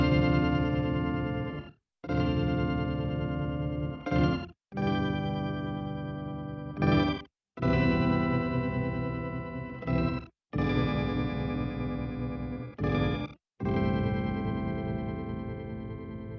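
A guitar effects pedal turns guitar chords into Guitorgan-style pseudo organ tones, with sustained, chorus-thickened chords held for a few seconds each and separated by short gaps; moderately loud, with no talking.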